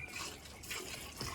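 A cow drinking water at a temple town in Braj during a Ram Navami festival, a close, wet sloshing and slurping sound with uneven gulps, heard alone without talk.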